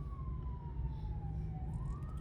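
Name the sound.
sirens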